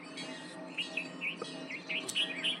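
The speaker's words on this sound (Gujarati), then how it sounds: "ઓલા બુલબુલ છે, ચકલા નથી." Bulbul birds on a cold, misty morning give a string of quick, faint, high chirps and short whistled notes over a low background hum, with no one speaking.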